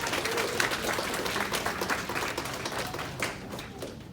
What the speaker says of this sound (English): Go ahead and clap for him.